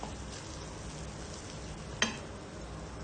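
Minced chicken with a little tomato sauce frying and being stirred in a pan, giving a steady, low sizzle with one sharp utensil tap partway through; no voices.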